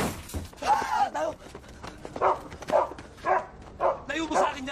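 A dog barks repeatedly in a rapid, uneven series under and between voices talking over it, fairly close.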